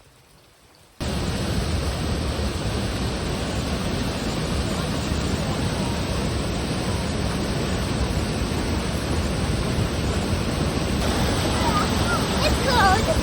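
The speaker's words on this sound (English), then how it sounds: "look at the water's falling and creating a little" A small waterfall in a cold canyon setting in Utah's national parks, a steady broadband rush of falling water that runs constant and fairly loud after a brief quiet start.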